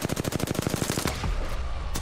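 Rapid automatic gunfire in the video game Apex Legends, a loud, close burst of evenly spaced shots that stops abruptly, followed by a brief tail and a final sharp crack.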